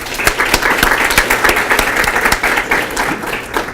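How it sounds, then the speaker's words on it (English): Conference audience applause fills the room, dense, loud and continuous hand clapping from a large crowd with sharp individual claps standing out, no talk over it. "let's give Komen a round of applause for this"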